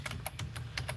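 Quiet, rapid clicking of keys on a computer keyboard, a string of light taps at an uneven rhythm over a low background hum.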